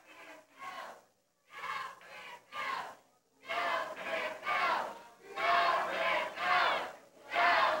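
Wrestling crowd at Dyersburg Entertainment Center chanting in loud rhythmic bursts behind Christopher O'Neill, short unified shouts separated by brief pauses that grow fuller and louder.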